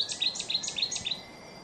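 Wetland songbirds singing in a reconstructed Iron Age Somerset soundscape: a quick series of bright, high chirps repeats through the first second, then fades to a faint background.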